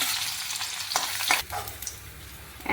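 Almonds frying in a spoonful of ghee give a busy close sizzle, broken by a few sharp scraping stirs of a spoon in the pan.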